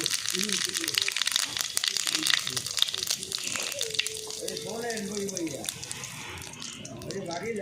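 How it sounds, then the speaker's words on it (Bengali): Bay leaf, dried red chilli and cumin seeds crackle and sizzle in hot oil for a Bengali curry, a steady bright frying hiss with small pops throughout, a voice speaking over it. "তেল গরম হয়ে গেছে, তেজপাতা, শুকনো লঙ্কা, জিরে ফোড়ন দিয়ে দিচ্ছি।"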